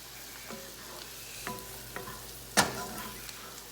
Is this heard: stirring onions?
yes